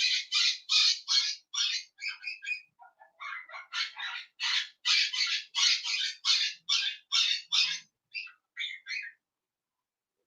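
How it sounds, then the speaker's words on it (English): A pet finch calls nonstop, bright repeated chirping phrases in quick steady bursts, loud and close, before falling silent at the end. "Every now and then the finch will start making some noise"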